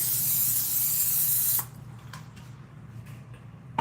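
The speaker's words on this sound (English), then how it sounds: "I'm going to spray it with olive oil spray in case those little buggers want to stick." A cooking oil spray hisses in one steady burst for about a second and a half, then cuts off, leaving faint kitchen clicks.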